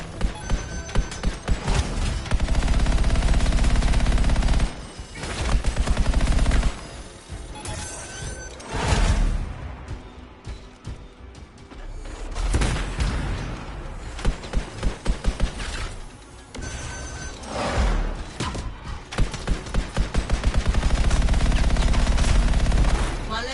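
Automated turrets firing in the video game Anthem, loud rapid bursts of mechanical gunfire in long repeated volleys with short pauses, close and dense, with scattered game voices.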